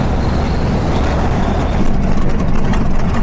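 Heavy droning piston engines of a B-25 Mitchell bomber as its landing gear and nose gear lower, a loud, steady low rumble filling the cabin.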